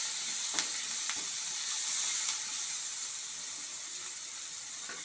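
Sliced onions frying with turmeric in a pan, stirred: a steady bright sizzle with occasional scraping clicks from the spoon, close by, with no talking.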